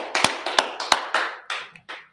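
A small group clapping for a priest and officer at a street gathering in Harlem: about eight sharp, separate claps in an uneven rhythm, close and clear, fading out over two seconds with no voices.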